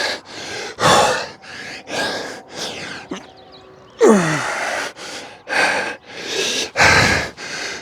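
Heavy, rhythmic breaths come during push-ups in a morning workout, close and loud, each exhale a forceful puff or gasp in a repeating pattern with short pauses between.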